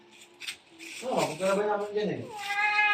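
A hungry cat meows over and over, close and clear, while being fed chicken intestines, with drawn-out, rising cries and a person talking quietly in the background.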